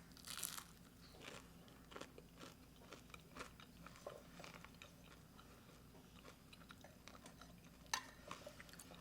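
Someone crunching air-fried General Tso's cauliflower bites, soft scattered bites and chews at close range, faint and irregular over several seconds, with no talking.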